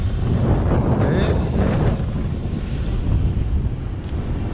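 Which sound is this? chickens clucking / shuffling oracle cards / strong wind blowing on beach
strong wind blowing on beach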